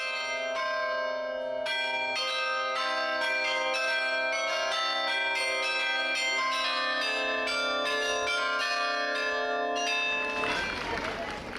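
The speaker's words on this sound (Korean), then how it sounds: "15분마다 카릴론 악기로 연주되는 불의의 종탑 종소리의 장엄함은 그 소리만으로도 도시를 지켜주고 있다" Carillon bells of the 13th-century belfry in Bruges, Belgium, play a sustained, resonant melody of overlapping struck tones for about ten seconds, rich and ringing, before fading into a wash of outdoor crowd noise.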